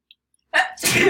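A single loud, close sneeze with a sharp intake and forceful burst, breaking an otherwise quiet moment.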